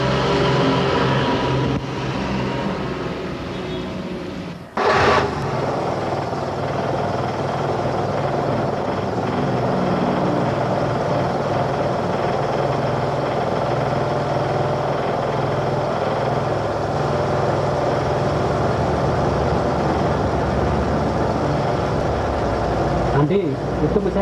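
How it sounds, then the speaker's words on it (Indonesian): A car engine runs at a steady idle during a workshop check of the lubrication system for fast oil consumption, a continuous droning hum after a brief dip near the start. "Baiklah, akan saya hidupkan mesinnya."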